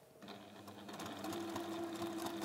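A sewing machine stitches a fancy flap bag at a shortened stitch length, running steadily and close up after a brief quiet start, its motor whir and needle rhythm continuous throughout.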